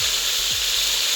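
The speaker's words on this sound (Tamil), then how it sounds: "பெருஞ்சீரகம் பொரியுது." Fennel seeds crackle and fry in hot oil for a banana flower fry, a dense continuous sizzle heard close up and alone.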